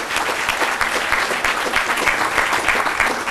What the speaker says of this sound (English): Give them another great round of applause